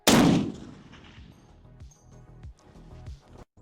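A single loud AK-50 rifle shot at a shooting range cracks at the start, then decays into a long rolling echo that fades away over a few seconds.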